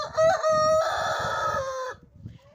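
A rooster crows once, a long drawn-out call lasting nearly two seconds, followed by a few soft clucks from nearby hens.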